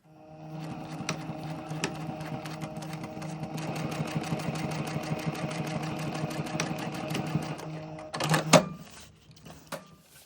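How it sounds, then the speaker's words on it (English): A sewing machine stitches a skirt lining piece in a fast, even run of needle strokes for about eight seconds, then stops with a few sharp clicks and clunks as the fabric is adjusted. "I'm going to sew my lining piece as well all the way to the notch"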